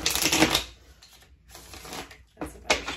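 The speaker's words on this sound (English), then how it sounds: "That's a better shuffle there." A deck of tarot cards being shuffled up close, with bursts of riffling and flicking card sounds separated by brief pauses.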